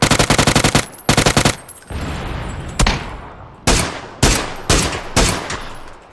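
Rapid automatic gunfire in the PUBG battle royale game, loud and close: several fast bursts, then a run of single heavy shots spaced about a second apart, with no talk over them.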